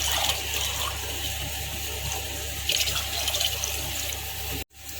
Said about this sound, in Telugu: దీనిలో ఇప్పుడు 2 గ్లాసులు వాటర్ పోసి బాగా బాయిల్ అవ్వనివ్వాలండి